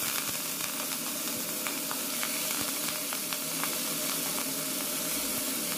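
Leaves drop into a hot pan of mustard fish curry with green chillies and mustard, setting off a dense, continuous sizzle and spatter that stays steady throughout.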